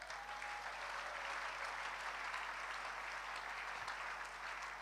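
A church congregation applauds during a Sunday service, a steady wash of clapping heard from some distance in a large room, with faint voices underneath.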